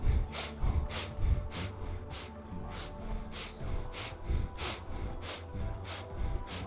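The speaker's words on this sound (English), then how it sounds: "And begin breath of fire." Breath of fire in a kundalini yoga session: rapid, rhythmic, forceful nasal exhalations repeating in a steady pulse, close and fairly loud, with no talking.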